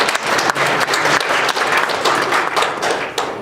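An audience at a 2016 autism acceptance showcase applauds with dense, sustained clapping that stays loud and even for the whole stretch, with no speech over it.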